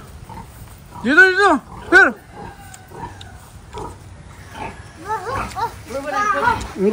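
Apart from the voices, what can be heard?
pigs being fed on a farm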